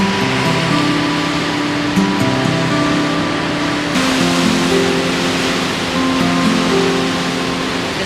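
Ocean waves wash steadily onto a beach at Byron Bay, Australia, at sunrise, a continuous broad roar of surf with no talk, along with a faint low hum in the background.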